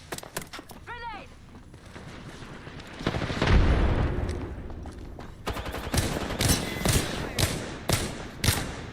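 Gunfire and a grenade blast in the video game Apex Legends, with bursts of rapid shots, a heavy booming explosion near the middle and further volleys of fire, while a voice briefly calls out over the action.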